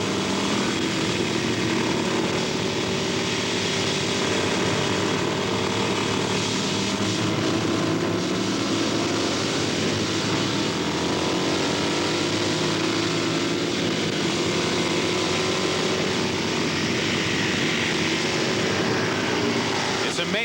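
Flat track motorcycles race on the San Jose Mile dirt oval at high speed, a constant loud roar of several engines droning together while a commentator talks over it.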